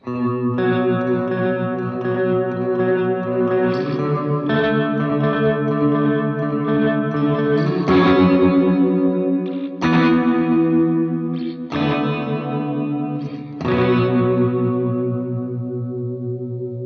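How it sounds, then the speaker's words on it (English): An electric guitar plays sustained chords through an OBNE Bathing Liminal delay pedal set to a traditional phaser sound, swirling and sweeping, the tone shifting slowly as new chords ring out every couple of seconds. "We're gonna do more of a traditional phaser sound."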